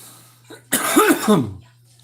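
A single sharp cough close to the microphone, preceded by a faint breath, over a low steady hum.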